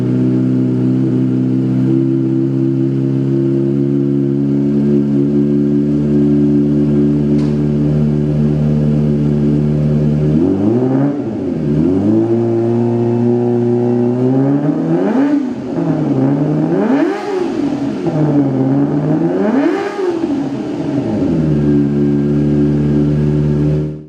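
A Kawasaki ZX25R with a racing exhaust idles loud and close with a deep, even drone, then gets blipped in several sharp revs that rise and fall in quick succession before cutting off.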